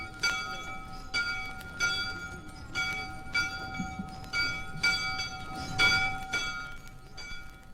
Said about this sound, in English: The Clinton Inn and the traditional dinner bell that stands outside.